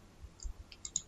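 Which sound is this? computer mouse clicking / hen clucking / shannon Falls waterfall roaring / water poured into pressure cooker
computer mouse clicking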